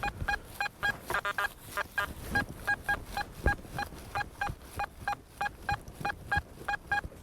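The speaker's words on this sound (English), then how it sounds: "that's a target overload sound, so don't mistake that one for a good target" An XP Deus metal detector gives a target overload signal: a steady train of short, evenly spaced electronic beeps, fairly faint, repeating for several seconds over low background rustle.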